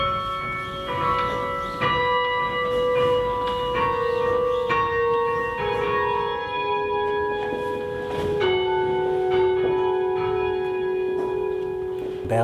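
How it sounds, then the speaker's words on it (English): A peal of 19 church bells swinging full circle rings steadily and overlapping, strikes following one another in a continuous rhythm with long ringing tones hanging between them. "a world record-breaking peal of bells"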